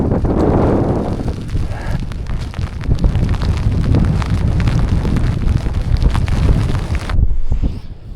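Strong wind roars and buffets the microphone at an exposed mountain edge near Red Pike in winter, loud and continuous for most of the clip before dropping suddenly near the end.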